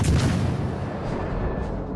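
Naval gunfire in World of Warships: Legends, a single deep boom at the start that rolls away into a lingering rumble.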